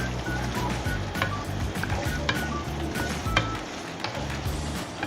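Chopped green chillies and ginger fry in a mutton karahi, giving a steady, fairly loud sizzle with faint scattered clinks and no voices.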